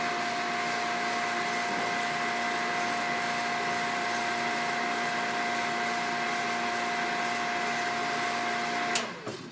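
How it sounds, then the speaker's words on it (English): Water pressure pump running after the pressure relief valve is drained, a steady droning motor hum with a constant tonal whine, faint and unbroken, ending with a brief click. "immediately you can hear the pressure pump kick in."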